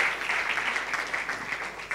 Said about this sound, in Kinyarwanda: Let's applaud to God for the shepherd.